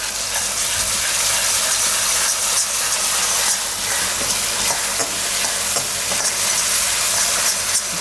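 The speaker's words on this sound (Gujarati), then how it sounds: "અને થોડીક વાર મિક્સ કરી લેવાનું તેલમાં. ગરમા ગરમ છે એટલે તરત આમાં પાકી જાય." Ground garlic being stirred in hot oil for a Gujarati spinach and urad dal: a loud, dense, continuous sizzle with faint scraping from the stirring, steady throughout and with no voices.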